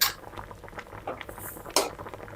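Pork menudo with tomato sauce being stirred in a pot, giving a few faint spoon-against-metal clinks and scrapes spaced through a soft bubbling background.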